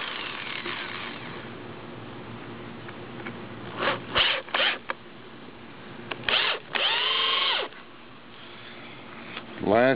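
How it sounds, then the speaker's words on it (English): A power drill whirs in several short bursts, a couple of brief pulses then a longer run, close by, with quieter handling noise and voices between. "My drill here."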